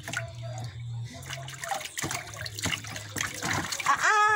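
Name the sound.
water splashing while bathing a baby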